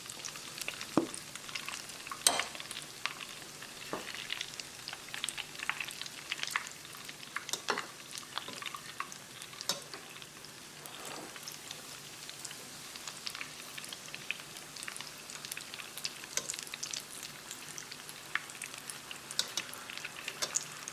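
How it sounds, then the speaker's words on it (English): Chicken strips deep frying in oil at 375 Fahrenheit, a steady fine crackle and sizzle with scattered pops, moderately quiet and uninterrupted throughout. "deep frying the chicken breast"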